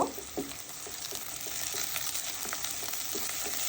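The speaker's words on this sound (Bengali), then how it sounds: "দেখো আমি এই পেঁয়াজের সাথে চিংড়ি মাছগুলো ভেজে নিব" Small shrimp fry with onions in a pan for a Bengali jackfruit-seed curry, a loud continuous sizzle up close, with faint occasional stirring knocks and no speech.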